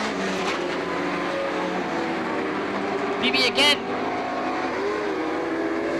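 Race cars roar around a speedway oval in a continuous loud drone, engines whining as they pass, with a brief sharp burst midway; an announcer talks over the racing.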